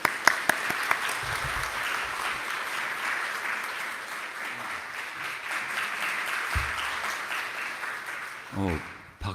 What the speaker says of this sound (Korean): 박수를 세게 쳐주셔서 고맙습니다.